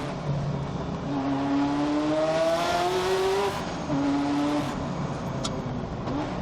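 A Ferrari F40 or Porsche 959 engine revs hard in first gear through rising gear-like tones, with a brief tire chirp of wheelspin partway through, close and loud with no talking.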